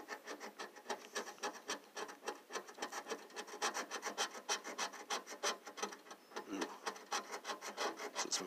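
A coin or fingernail rasps steadily across the latex coating of a Money Scramble lottery scratch-off ticket late at night, a close, continuous scraping with quick repeated strokes, with one brief murmured voice.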